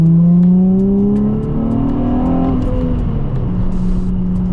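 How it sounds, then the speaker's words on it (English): A Nissan 350Z with a muffler delete accelerates hard, its exhaust note rising steadily in pitch through a loud, close run with a brief dip in the middle before climbing again. "this thing sounds so good for just a muffler delete"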